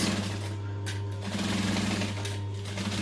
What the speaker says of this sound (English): So I'm just sewing along the seam allowance